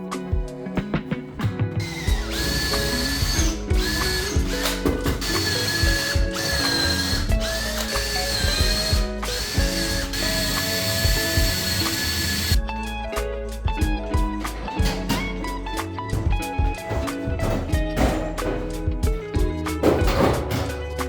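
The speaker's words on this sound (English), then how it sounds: "all I'm doing is drilling holes through the wood to mark the brick behind it" A power drill bores holes through wood into the brick behind it while a motorbike workshop is being built. It makes a sustained, loud whining drone with rattling, ratcheting texture that runs for about twenty seconds with no talk.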